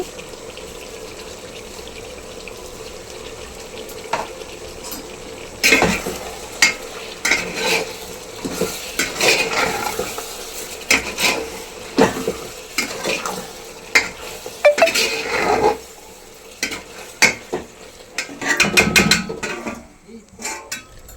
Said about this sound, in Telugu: ఈ మిశ్రమాన్ని అంతటినీ ఒకసారి బాగా కలుపుకోవాలండి